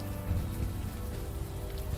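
Steady rainfall in the game Unavowed, a continuous soft patter with a low rumble beneath, even and unbroken throughout.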